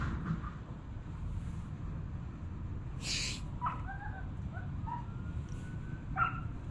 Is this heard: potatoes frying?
no